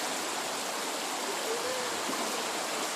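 Rushing river water near the Zhene waterfalls by the settlement of Vozrozhdenie, a steady broadband roar that stays close and constant throughout, with no speech over it.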